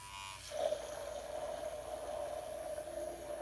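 Electric makeup brush cleaner spinning at its highest speed, a faint steady whirring hum with a thin sustained tone, close and alone.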